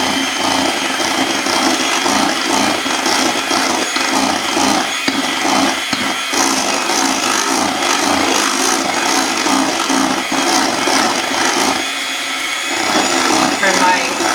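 An electric mixer running at rising speed through chocolate cake batter made with fat and mayonnaise: a continuous loud whirring drone with gritty scraping texture, holding steady for the whole stretch.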